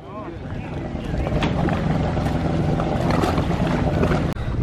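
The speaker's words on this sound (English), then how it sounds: "four there, five there, and then all these jet skis." Jet skis racing on open water at a personal watercraft event, giving a steady loud engine roar with splashing and wind buffeting close to the microphone for several seconds.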